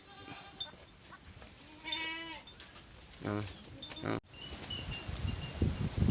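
Goats, including a young mother goat, bleat repeatedly on a farm with wavering, nasal cries at close range, while someone talks over them and leaves rustle in the background.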